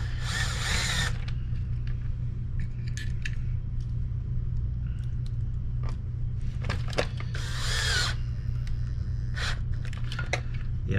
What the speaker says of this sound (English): you need a drill with a good mechanical clutch in order to make this work